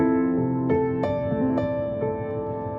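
A Pianoteq virtual piano placed in a virtual room, with the wall close behind the instrument, plays a few separate notes and chords that ring and fade with modest sustain, close and clear with no voices.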